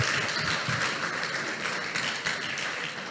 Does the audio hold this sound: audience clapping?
yes